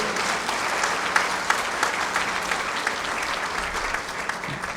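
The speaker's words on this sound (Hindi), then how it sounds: "ताली बजाएंगे।" Audience applause fills a political party meeting hall as regional in-charges stand to be recognised: dense, steady clapping that holds evenly throughout without letting up.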